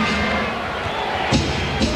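Basketball arena crowd murmuring and stirring during a 1995 Suns vs Nuggets game, a steady wash of noise from many voices with a couple of brief swells.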